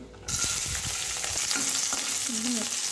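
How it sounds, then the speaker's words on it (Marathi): Green chillies hit a pan of roasted peanuts and burst into a loud, steady sizzle, with stirring scrapes and clinks close by and no talk. "मिरच्या छान परतून घेऊया"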